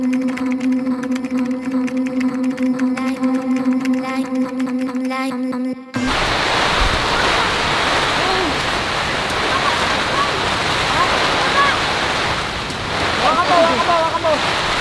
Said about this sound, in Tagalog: So dahil umulan sa labas, medyo mababasa kami ng ulan.